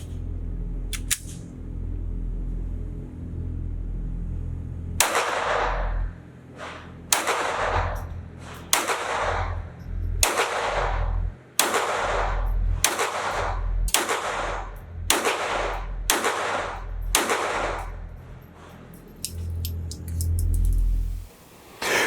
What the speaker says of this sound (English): let's do a little bit more shooting.